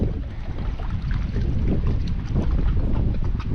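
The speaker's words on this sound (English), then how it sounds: "Freaking wind tunnel." Strong wind gusts buffet the microphone on an exposed stretch of the Mt Colden trail in the Adirondack High Peaks, a steady broadband roar with low rumbling bursts throughout and no voices.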